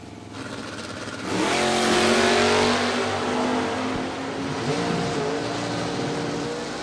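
1968 Ford Mustang drag race car launching at Pulaski, Virginia: the engine leaps from idle into a loud, sustained roar with rising tones, then dips briefly and pulls hard again.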